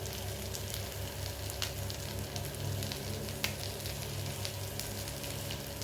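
Mackerel (ayala) fries in a pan with curry leaves, producing a dense, steady sizzle and crackle throughout, with scattered small pops and no voices.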